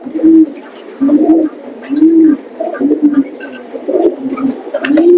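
Racing pigeons in a loft give repeated low throaty coos in rolling phrases, several birds close by with faint chirps between, no talk.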